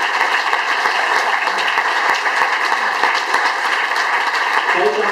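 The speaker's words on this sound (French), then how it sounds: "Des applaudissements pour toute l'équipe technique." Festival closing-night audience at a Palais des Arts applauding the technical team, steady broad applause filling the hall at moderate loudness, with a voice over it near the end.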